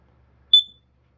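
A Kidde KN-COSM-IBCA smoke and carbon monoxide alarm lets out a single short, sharp, high-pitched beep lasting about a quarter second. Silence surrounds it.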